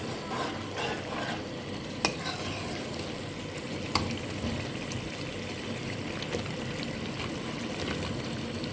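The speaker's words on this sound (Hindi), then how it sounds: "इन आलूओं को 1 मिनट के लिए जो है अच्छी तरीके से भून लें थोड़ा सा ताकि आलू थोड़े से फ्राई हो जाए।" Potato pieces frying in oily, cooked-down masala for an anda aloo curry while being stirred in a pan, a steady close sizzle with soft scraping and two sharp utensil knocks, no talking.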